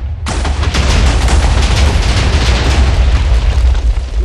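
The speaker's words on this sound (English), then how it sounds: "Well, that's a pretty big explosion, if I say so myself." A big underground explosion in Minecraft sets off a sudden loud boom that rolls into a sustained, dense crackling roar with deep rumble lasting several seconds, with no talk.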